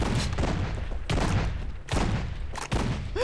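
Shotgun blasts in a Fortnite-style Minecraft game mode, four loud booming shots spaced roughly a second apart, each with a short decaying tail, no talk.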